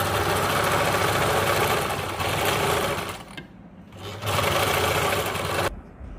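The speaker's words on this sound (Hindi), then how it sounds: "अभी मैं स्टिच करूँगी इस तरीके से" Sewing machine stitching fabric for a handmade hair band, running in close, loud bursts with a short pause in the middle and a stop near the end.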